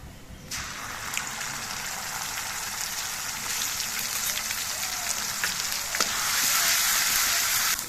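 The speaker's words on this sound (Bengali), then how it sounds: "এবার এর মধ্যে আমি 2 চামচ পেঁয়াজ বাটা দিয়ে দিচ্ছি" Onion paste sizzles and spits in hot oil with garlic paste, a steady close frying hiss that flares sharply when added and grows slightly louder toward the end.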